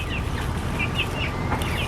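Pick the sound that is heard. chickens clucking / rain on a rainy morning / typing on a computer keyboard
chickens clucking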